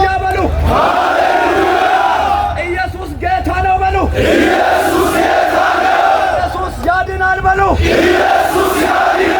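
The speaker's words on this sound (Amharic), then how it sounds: "እልልታ ለሚገባ እልልታ ይሁን" A large crowd ululates loudly at a church youth golden jubilee celebration in Hosanna, Ethiopia, with sustained high trilling cries rising and falling in waves throughout, dense and close.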